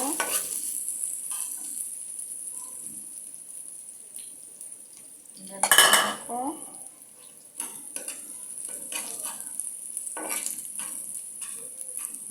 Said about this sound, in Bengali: কাঁচামরিচ। এটাকে আমি লাল লাল করে ভেজে নেব।